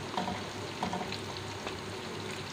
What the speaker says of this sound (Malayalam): ഫിഷ് നമ്മൾ മൂക്കാൻ തുടങ്ങിയിട്ടുണ്ട്.